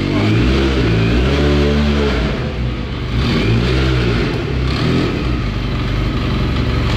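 Loud, close engine of a 300hp Wildcat 4X side-by-side revving hard on a launch, pitch sweeping up and down in repeated surges with mechanical clatter and no talking.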